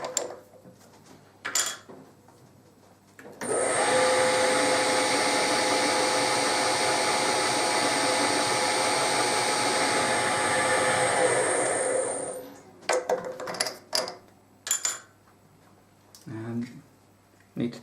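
A spotting drill in a machine runs steadily for about nine seconds, a loud, even whirring whine, with quieter clicks and handling noises before and after.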